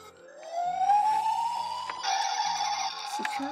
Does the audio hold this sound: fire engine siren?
yes